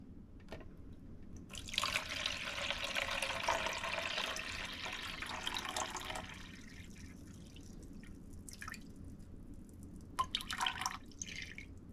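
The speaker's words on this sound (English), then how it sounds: "put my container on, and zero it out, and then start pouring water in until I get to 399." Water is poured into a container sitting on a kitchen scale, with a steady splashing stream for several seconds, then thinning to a few drips.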